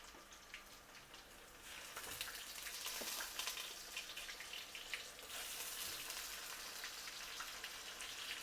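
Onion paste frying in a pan gives a faint, steady crackling hiss like light rain, continuous and slightly louder after the first couple of seconds, with no talk.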